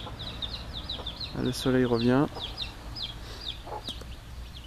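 Chickens cluck in repeated short calls through the background of a permaculture vegetable garden, with a brief louder vocal burst in the middle and a short spoken phrase.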